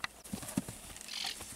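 A piebald work horse walking, its hooves giving a few soft, uneven clip-clop thuds close by over a faint background hiss.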